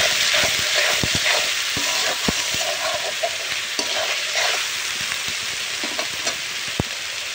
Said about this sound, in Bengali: ঘুটে ঘুটে মশলা দিয়ে একদম পুরো কষাই নেব